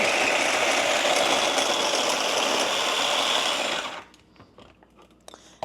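A small food processor chops ginger for a honey cold and flu remedy, whirring loudly and steadily for about four seconds before cutting off abruptly, leaving faint small clicks and handling noises.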